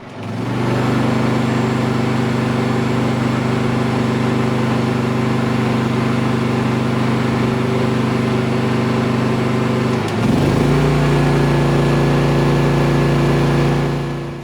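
A generator drones steadily and loudly up close. Around ten seconds in its pitch dips and shifts as a load is added, then it holds a slightly heavier hum.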